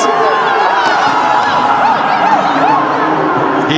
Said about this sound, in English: The crowd are loving the power from these Indian batters.